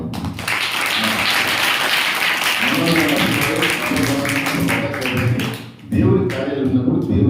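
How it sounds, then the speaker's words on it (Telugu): An audience at a religious gathering claps throughout, the applause running under a voice that speaks loudly over it, with a brief dip before the clapping and talk return. "ఇది చప్పట్లు కొట్టవలసిన సమయం."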